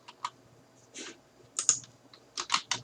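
Keys clatter on a computer keyboard in short quiet bursts of clicks with pauses between them, close by.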